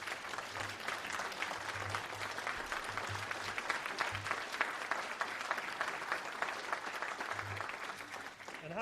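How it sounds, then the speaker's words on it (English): A ceremony audience applauds Eagle Scouts at a postage stamp dedication, sustained even clapping from a large crowd lasting several seconds, with a faint low hum beneath. "How about a nice round of applause for our Eagle Scouts?"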